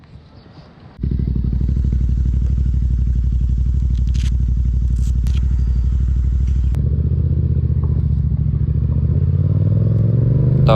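A Yamaha MT-07 motorcycle starts up loud, its engine droning steadily as it is ridden, with a brief dip and shift in pitch partway through and a rising note at the end.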